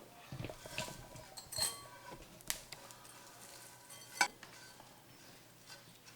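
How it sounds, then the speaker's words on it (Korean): Dried anchovies being dry-stir-fried in a pan for a Korean gochujang myeolchi bokkeum side dish, giving scattered faint crackles and clinks with a few sharper ticks, close and quiet with no talking. "그 다음에 소리가 따닥따닥 난다. 라고 하면 멸치가 초벌구이가 한번 다 볶아진 거예요."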